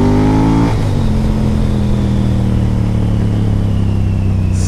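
A Moto Guzzi motorcycle engine is revved hard, its rising whine cutting off sharply before settling into a loud, steady, throbbing idle with distinct low harmonics, close up with no voices.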